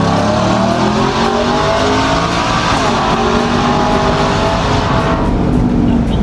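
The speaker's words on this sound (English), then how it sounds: "There's just something about the whine of a supercharger that you can't really beat." Loud, close roar of a supercharged supercar engine being revved, with a rising whine layered over the deep engine rumble, sustained throughout with no talking.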